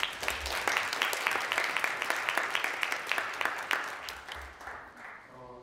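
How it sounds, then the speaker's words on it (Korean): Audience applause for the speakers of a partner panel discussion at a developer conference, steady dense clapping from a seated crowd that holds for several seconds and then thins out toward the end. "좋은 말씀 해주신 일단 그 연사분들에게 박수 한번 부탁드리겠습니다"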